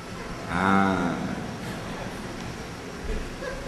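A cow moos once, a loud, drawn-out call lasting about a second near the start, then low background noise with no talking.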